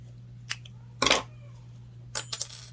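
Scissors cutting off a yarn tail on a crochet hat, heard as a brief snip followed by two louder, closer clipping bursts in a quiet room with a faint steady hum.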